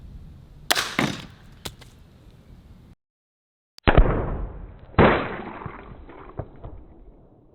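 Two sharp, close .22LR CCI Mini Mag gunshots into a peanut butter jar outdoors, each a loud crack with a short decaying tail, following some earlier fainter snaps and a brief silent gap.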